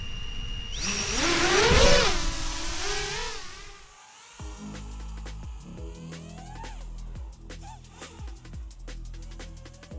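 Motors of a DeepSpace ROC7 drone whine and rise in pitch under throttle, then give way to rhythmic buzzing pulses and sharp clicks as it flies, fairly close and loud.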